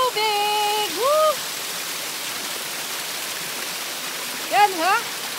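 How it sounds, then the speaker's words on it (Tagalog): Water flows in a stream at Fung Nei and Nei Tung Hung, heard as a steady broadband rush throughout, with bird-like whistles near the start and end. "Para marinig nyo yung lagas-las ng tubig."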